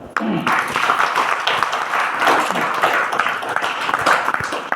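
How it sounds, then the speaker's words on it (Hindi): Enthusiastic applause from a crowd, dense clapping filling the whole stretch with a few voices mixed in. "एक बार जोरदार तालियां।"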